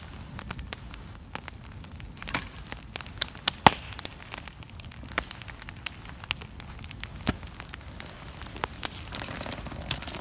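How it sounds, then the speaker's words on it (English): Firewood burning in a home fireplace crackles steadily, with irregular sharp pops and snaps scattered over a soft, constant hiss and no voices. "Look at our fireplace, guys. Cracking away."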